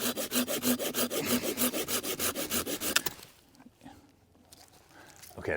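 A folding saw rips through hardwood in quick, even back-and-forth strokes for about three seconds, close and loud, then stops, leaving quiet handling noise.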